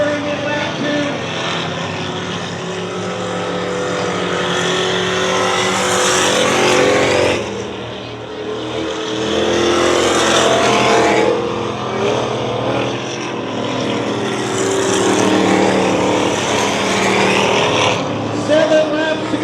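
Dirt track race cars roaring around Dirtona Raceway during a 120-lap enduro feature, loud engines rising and falling as cars pass close by in waves, with a track announcer talking over them.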